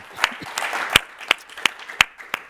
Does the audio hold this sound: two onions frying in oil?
no